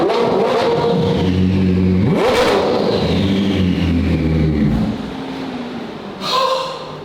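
Koenigsegg Jesko twin-turbocharged V8 revving hard and loud nearby, climbing through sharp rising sweeps, dropping off, then a short final blip after a pause.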